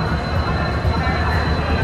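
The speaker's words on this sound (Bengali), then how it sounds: "আমাদের ট্রেন সবেমাত্র আসলো" A train pulling into a platform at Howrah station, a dense low rumble and rolling clatter close by, loud and continuous with crowd noise and voices mixed in.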